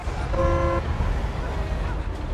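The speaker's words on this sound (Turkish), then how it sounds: "Kornası nasıl? Kornası güzel." Car horn in the video game Mafia II sounding one short honk, a clear tonal blast near the start of the clip, heard over a low engine drone.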